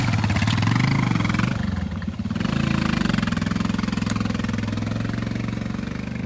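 Motorcycle engine laboring steadily while riding uphill over difficult terrain in Ecuador after sunset, a loud continuous drone with a brief dip in the middle before pulling again, no talk.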